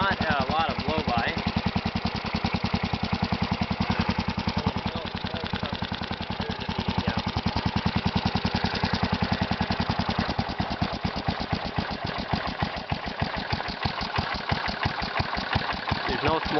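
A Kohler Magnum 16 hp engine for a Bolens 1256 tractor runs steadily, a loud, close, even chugging idle with a regular pulsing exhaust beat and no voices over it.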